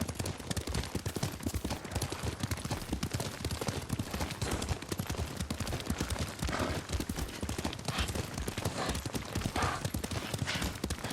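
Horse hooves gallop in the Ghost of Tsushima video game, a fast, loud, continuous drumming of clip-clops that carries through the whole stretch with brief speech and a faint neigh.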